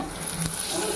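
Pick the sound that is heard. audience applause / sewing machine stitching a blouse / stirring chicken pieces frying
stirring chicken pieces frying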